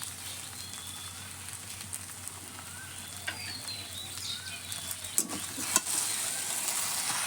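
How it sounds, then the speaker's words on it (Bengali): Spoon stirring fried spice mix and chopped coriander into grated potatoes in a pan for a sandwich filling, a steady soft sizzle with scraping strokes that grow busier toward the end. "মশলাটা আলুর সঙ্গে মিশিয়ে নেব।"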